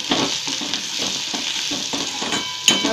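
Tomato chutney sizzles in a frying pan while a spoon stirs it in short scraping strokes, close and steady, ending with a brief clink.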